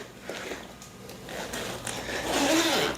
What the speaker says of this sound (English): we can just open up one of these little zippers in the front here